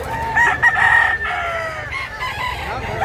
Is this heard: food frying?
no